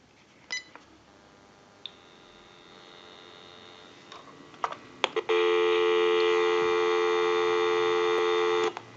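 A few faint clicks over a low hum, then a steady, loud dial tone from a General Electric 6.0 Model 27909 cordless telephone sounds continuously for several seconds before cutting off.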